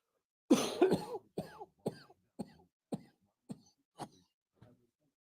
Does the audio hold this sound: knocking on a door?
no